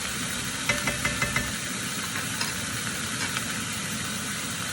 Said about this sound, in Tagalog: Ihalo lang natin yung kalabasa para mag-mix yung sibuyas at saka yung bawang.